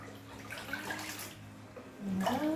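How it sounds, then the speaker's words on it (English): Quiet sloshing and trickling water as a papermaking mold and deckle are lowered into a basin of paper pulp, ending in a brief, slightly louder splash and gurgle. "Take my mold and deck and dip it in the water."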